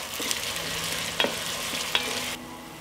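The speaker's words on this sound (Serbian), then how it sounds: "Dodat ću i beli luk i sve ću propržiti dok luk ne omekša." Chopped onion and garlic fry in hot oil in a pan, giving a steady, soft, close sizzle with a few light clinks of a utensil stirring, no voices.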